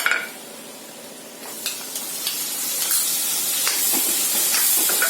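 Tomatoes tipped into a hot pan with turmeric, chilli and masala for a drumstick and toor dal curry, producing a loud burst of sizzling and hissing that swells and holds, with a few clinks of the spoon.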